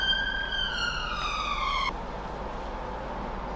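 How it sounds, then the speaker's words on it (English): A siren wails from nearby with a rising and falling tone for about two seconds, then cuts off abruptly and leaves a low background hum. "It's a siren."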